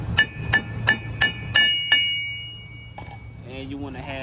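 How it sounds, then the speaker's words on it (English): Six light, evenly spaced metallic taps from a hammer on a Ford Transit axle ring out with a bright clink, then fade; a voice speaks briefly afterward. "once you tap on this axle, it's going to come out"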